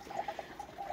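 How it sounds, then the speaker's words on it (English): Rainwater spills from a leaf-clogged roof gutter in a short, soft pouring trickle with a few gentle splashy pulses, close by and quiet, with no voices. "the water comes down from the roof, runs over"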